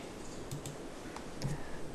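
Computer mouse clicks, a few faint, sharp ticks spaced irregularly over a low room hum, close by.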